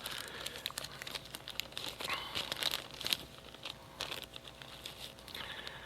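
Plastic bags crinkle and rustle as they are zipped open and handled at a workbench, a soft, close, continuous crackling with a few sharper snaps.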